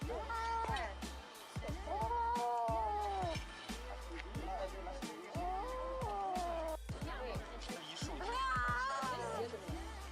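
A kitten trapped in a narrow pipe meows again and again, each cry drawn out and rising then falling, loud and close over a steady low hum.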